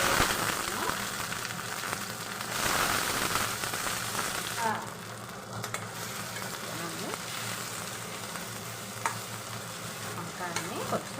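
Eggplant (brinjal) frying with onion and curry leaves in a pan for a green-chilli fry, stirred with steady scraping and soft continuous sizzling, close and fairly quiet, with no talk over it.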